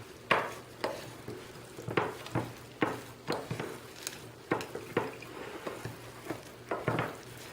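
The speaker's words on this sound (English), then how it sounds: "we're just going to mix that with a spoon to really blend it up, because this is what forms the candy topping" A spoon mixes a nutty candy topping for Italian-style panforte, making close, rhythmic scraping and soft clinking strokes roughly twice a second in an otherwise quiet kitchen.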